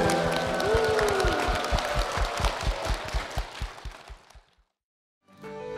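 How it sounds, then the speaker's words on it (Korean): A church congregation claps in praise, dense rhythmic applause with a sung or sustained tone over it, thinning out and stopping before a short pause and a new sound. "주님께 영광의 박수를 드리겠습니다."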